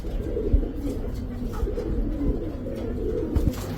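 Racer pigeons kept indoors coo softly and repeatedly in low, throaty murmurs that overlap into a steady close-up rumble, with no talking.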